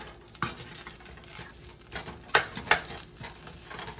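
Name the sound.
butter melting and sizzling in a pan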